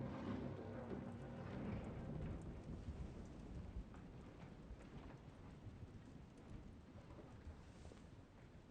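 Stormy night in a creepy attic in the video game Detroit: Become Human: steady heavy rain with rolling thunder rumbling underneath, a continuous moderately loud wash with no voices.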